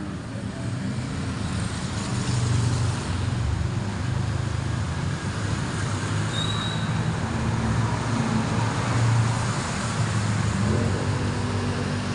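Heavy road traffic streams along a street lined with buildings, a continuous near rumble and roar of many vehicles passing, swelling and easing with no pauses.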